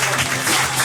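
A comedy roast battle audience in Hartford breaks into loud, sustained applause, a dense wash of clapping with no talk over it.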